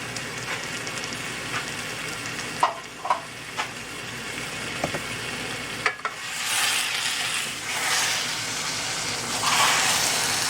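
Tomato puree goes into spices frying in a pan, with a few sharp spoon knocks followed by a louder, sustained hissing sizzle that swells and settles.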